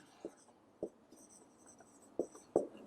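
Writing on a board during a chemistry lecture on electrochemistry, four short, crisp taps and strokes spaced irregularly, quiet and close with no talk.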